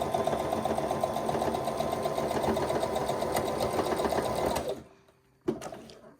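Classic household sewing machine stitching elastic fabric, a steady loud rapid mechanical whir for about four and a half seconds, then stopping, followed by a brief faint clack.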